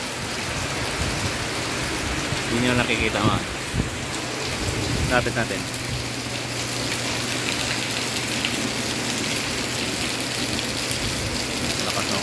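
Heavy typhoon rain pours in a dense, constant roar while a person speaks briefly over it.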